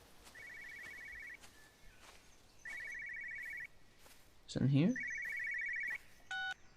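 In the video game Everybody's Gone to the Rapture, an old telephone bell rings in repeated bursts separated by pauses, a person speaks briefly over it, and a few footsteps and small clicks sound in between.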